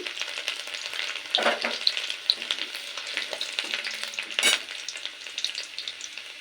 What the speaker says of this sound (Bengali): প্রথমেই দিয়ে দেব রসুন কুচি